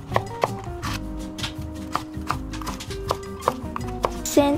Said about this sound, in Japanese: じゃがいもは1センチ角に切っていきます